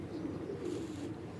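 Pigeons cooing in a rooftop loft where birds are kept and netted, a low steady murmur of soft coos running continuously through the moment, moderately close and fairly quiet.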